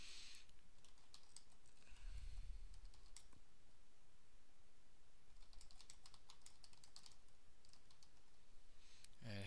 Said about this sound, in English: Type in the email address of the store